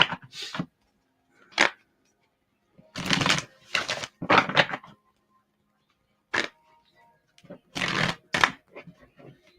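Tarot cards are shuffled by hand during a live psychic reading: several short, close riffling bursts come in irregular clusters, separated by silent pauses.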